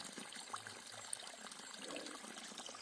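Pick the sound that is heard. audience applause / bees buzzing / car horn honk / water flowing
water flowing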